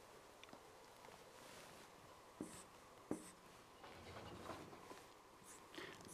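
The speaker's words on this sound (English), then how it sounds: "So let's write it down on our whiteboard." Marker writing on a whiteboard during a supply chain forecasting lesson, faint scratchy strokes with a couple of sharp taps, alone in a quiet room.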